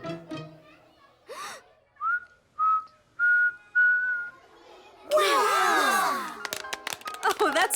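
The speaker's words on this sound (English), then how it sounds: "You learned to whistle." A young cartoon girl whistles several short, clear rising notes, each separated by pauses, followed by a burst of scattered squeaky whistling and clattering sounds at the end.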